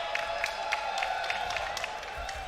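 A packed crowd at the Combo Breaker fighting game tournament cheers, whoops and claps, a dense steady roar of many voices and scattered applause heard from within the hall.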